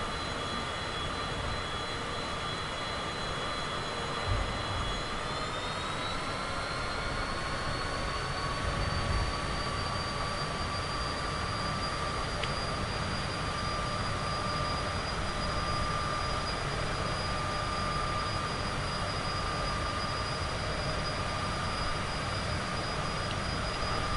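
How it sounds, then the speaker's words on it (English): Aircraft engine in the video game Microsoft Flight Simulator 2024, a continuous droning jet whine with steady tones that shift slightly in pitch, constant and alone with no talking. "Let's just speed up this aircraft a little bit."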